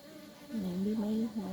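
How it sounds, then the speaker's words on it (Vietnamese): Bees buzzing around a large bee nest among flowering bushes in a rural garden, a close steady drone that starts suddenly and wavers in pitch as the insects move, with no voices. "một ổ ong luôn, quá trời"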